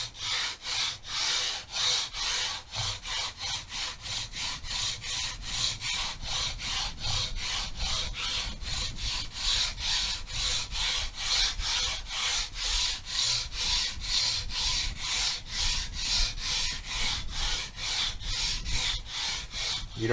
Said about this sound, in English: I'm not trying to grind the frets down. I'm just trying to just level them.